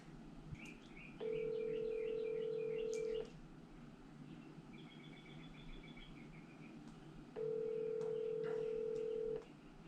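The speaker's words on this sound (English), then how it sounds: "I'm going to give PD a call" Telephone keypad tones from a call being placed, a couple of short touch-tone beeps followed by two long steady dial-style tones with quiet room noise between them, no talking.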